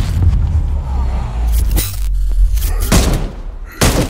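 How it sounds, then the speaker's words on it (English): Loud gunfire and explosive booms from combat in the zombie game Dead Island 2, dense overlapping blasts and thuds with brief gaps, playing out over the whole stretch. "guns offer a powerful addition to your arsenal, capable of slaying long-range targets and triggering deadly traps and explosions"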